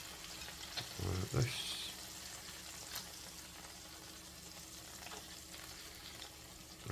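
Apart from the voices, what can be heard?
fat sizzling while cooking lamb heart and beef kebabs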